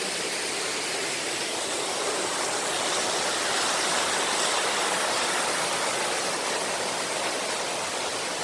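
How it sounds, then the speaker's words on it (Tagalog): Artificial waterfall flowing steadily in a park at dusk, a dense, even rush of falling water that stays loud and unbroken throughout with no voices. "Fake na falls yan. Kunwaring falls lang po yan."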